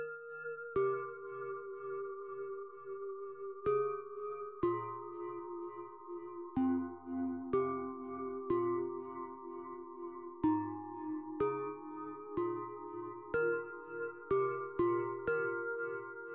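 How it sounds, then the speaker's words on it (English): The Tivatron synth preset from Citrus plays a sequence of plucked, sustained notes with low bass tones underneath, rhythmic attacks every second or so, clear and unaccompanied by speech. "we have this sound called Tivatron"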